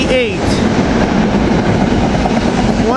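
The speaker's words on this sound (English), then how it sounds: "Here we got Norristown train 252 to Norristown." A Norristown commuter train with its rail cars rolls past close by with a loud, continuous rumble and a rhythmic clatter. Faint squealing tones rise above the roar.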